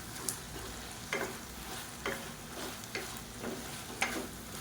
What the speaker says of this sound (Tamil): இதில் ஒரு கை அளவுக்கு கொத்தமல்லியில் சேர்த்துக்கலாம். சேர்த்துட்டு லேசாக ஒரு பரட்டிக்கலாம்.